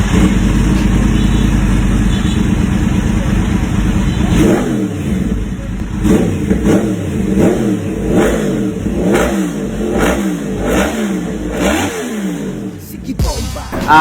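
A Yamaha R1 motorcycle fitted with a Villain Conqueror exhaust runs close by, a steady rumbling idle giving way to a string of sharp, throaty revs that rise and fall in quick succession.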